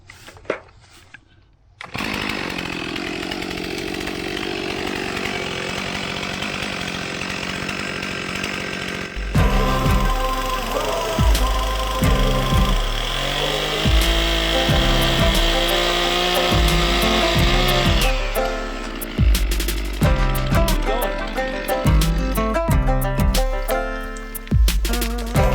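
A chainsaw makes the back cut on a standing tree during a forest safety lesson, first at a steady idle-like drone, then a loud, heavily loaded run of revving and bogging down as the bar works through the wood.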